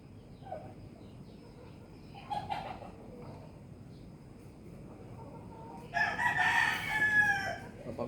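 A rooster crows twice at a moderate distance, the second call longer and louder, over a quiet outdoor background.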